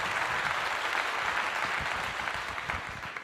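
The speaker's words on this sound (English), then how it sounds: "Round of applause." Applause from a studio audience on a comedy talk show, a fairly faint but steady wash of clapping that holds evenly and tapers slightly toward the end.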